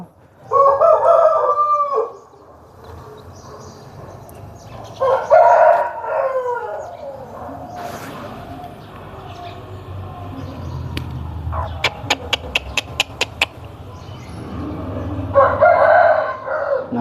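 Country poultry: a rooster crows loudly several times, long strained calls spaced apart, while a hen and chickens cluck and peep softly in between, with a quick run of sharp clicks near the middle.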